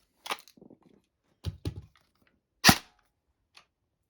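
A Specna Arms HK416 airsoft gun fed from a Cyma 416-style mid-cap magazine, set to full auto, fires a few short, sharp snapping bursts separated by brief pauses, close and alone with no talking.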